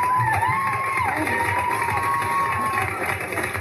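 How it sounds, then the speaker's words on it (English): Audience of women at a stand-up comedy show cheering and whooping loudly, a sustained crowd roar with shouts rising over it throughout. "Only women applaud."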